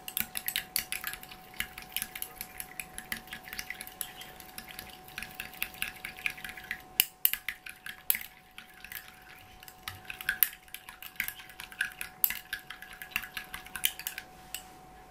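A utensil stirs and clinks against a container holding aloe vera and flower hydrosol, quick repeated scraping taps close to the mic, steady and fairly quiet with short pauses.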